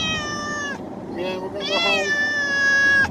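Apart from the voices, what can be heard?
cat meowing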